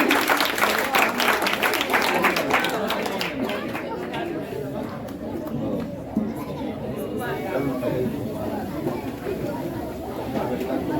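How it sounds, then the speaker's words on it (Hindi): An audience at a school award function for exam toppers gives sustained applause mixed with lively crowd chatter, dense claps early on that thin into a steady murmur of talk and scattered clapping. "इसके लिए जोरदार तालियां"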